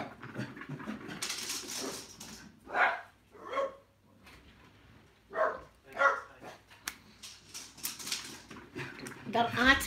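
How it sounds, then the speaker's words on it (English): Dogs barking outside in short repeated bursts, moderately close, mixed with panting and a person talking throughout. "More dogs out there, for God's sake."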